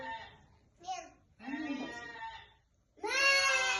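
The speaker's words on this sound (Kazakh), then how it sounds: "Қойдың дауысы екен" Several wavering sheep bleats in a row, separated by brief pauses, the last one loud and sustained.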